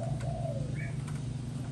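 A male Malaysian spotted dove gives a soft, low cooing call, close by and steady over a constant low background hum.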